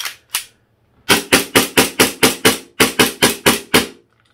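Shots from a WE DP17 airsoft gas pistol running a WE gas magazine: two single cracks, then a rapid string of seven and a second string of five, loud and close with no talking.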